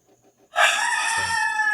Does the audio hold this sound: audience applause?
no